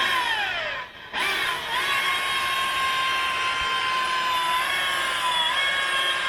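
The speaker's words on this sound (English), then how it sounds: "he's buffing it right now" A rotary buffer polishes the dull, wet-sanded paint on a Nova, giving a steady, close motor whine with a shifting pitch and a brief dip near the start.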